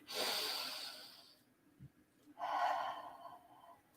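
During a yoga pose, a person draws in a deep audible breath through the nose, then pauses and releases a long, breathy exhale, close and quiet.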